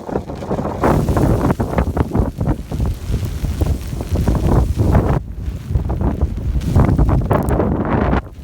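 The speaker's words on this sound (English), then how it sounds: "I'll give you a little shot of the wind" Strong wind gusts roar through a blizzard, buffeting the microphone loudly and continuously with surging rushes and brief lulls throughout.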